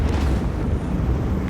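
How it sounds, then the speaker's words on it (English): Macro cannons firing in the Rogue Trader video game, a dense, heavy rumbling barrage that holds steady and loud throughout with no pause. "Unleash the storm of macro cannons."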